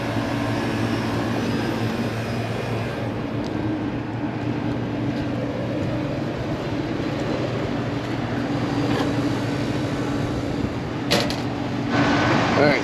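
An air conditioner blower runs on a weekend service call, a steady loud whooshing drone with a low hum underneath, continuous and close, broken near the end by a few brief clicks and handling noises.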